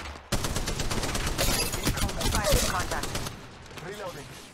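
Gunfire in the mobile shooter Apex Legends Mobile: a sustained rapid burst of close automatic weapon shots lasting a few seconds, followed by quieter clicks and rattles.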